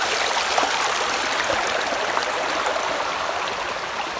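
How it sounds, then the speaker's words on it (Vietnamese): A clear forest stream in northern Vietnam flows steadily as someone wades across it on foot, the loud, continuous rush of water filling the scene with no pauses or voices. "Đi qua một cái suối nha bạn nhé."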